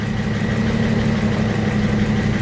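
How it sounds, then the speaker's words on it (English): A Jeep Wrangler engine idles soon after its first start following repair work. It makes a loud, steady low rumble with a constant hum and faint vibration and no change in revs. "Engine doesn't sound bad."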